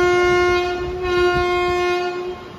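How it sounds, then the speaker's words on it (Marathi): A non-AC double-decker train sounds a long, steady horn blast as it departs Valsad station, loud and close, fading out after a couple of seconds over a low rumble. "ऑन टाइम आपली ट्रेन रवाना होती आहे"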